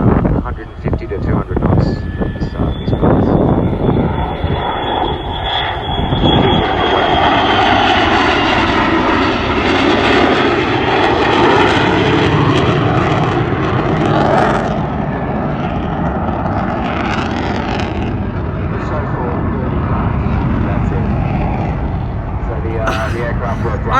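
An aircraft making a slow pass with gear down at the Newcastle air show roars loudly as it passes, with wind noise buffeting the microphone and a voice talking over the engine drone.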